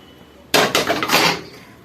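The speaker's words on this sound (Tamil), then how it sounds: "ஸோ இந்த மாதிரி ஒரு தட்டில் நல்லா ட்ரான்ஸ்ஃபர் பண்ணிக்கோங்க" Homemade rasam powder is tipped onto a plate with a sudden loud clatter of metal and dishware, followed by a second of scraping and clinking before it fades.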